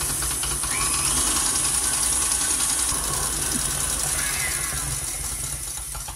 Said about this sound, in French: là je vais fouetter pendant environ 3 minutes